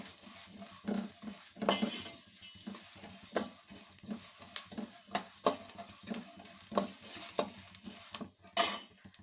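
Whole spices dry-roasting in a pan for wedding-style sambar powder, quiet crackling with frequent scraping and stirring clatters of a spoon against the metal pan, no talking.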